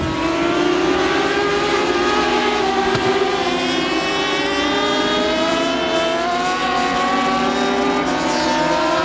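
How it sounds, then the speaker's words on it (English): Dwarf race cars running tuned motorcycle engines scream around a Texas dirt oval at Houston Motorsports Park, a loud continuous high-pitched howl from several cars at once, with overlapping engine notes rising and falling as they pass, heard alone. "They've got these motorcycle engines tuned"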